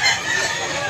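A rooster crows close by at an affordable roadside market, a loud drawn-out call that fills the short moment with a faint hint of other fowl around.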